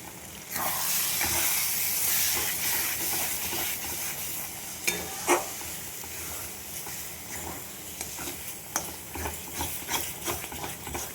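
A pan of lote fish curry topped with coriander leaves bubbles and hisses close by while a spoon stirs it, giving intermittent clinks and scrapes over a soft sizzling bed, no talking.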